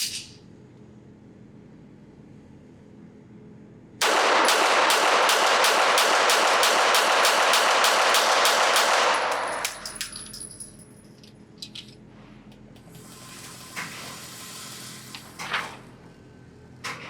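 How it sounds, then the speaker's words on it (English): A Derya Arms Melik, a Turkish-made Beretta 92FS clone, fires hollow points at a range: a rapid string of sharp, loud shots for about five seconds, then scattered clinks and handling noises. "let's go back to the range, put some hollow points through it,"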